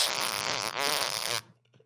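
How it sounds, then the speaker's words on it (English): Loud, sustained fart lasting over a second with a buzzy, wavering tone, cutting off abruptly into near silence. "Let out a fart."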